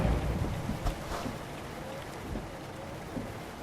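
Steady rain in American Truck Simulator on a Washington route from Portland to Bellingham, a soft broadband hiss with low rumble, continuous and fairly quiet with no talk over it.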